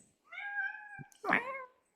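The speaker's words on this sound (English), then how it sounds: "Can you hear my cat?" A house cat meows twice in quick succession, close and clear in a quiet room, the second call louder and more drawn out than the first.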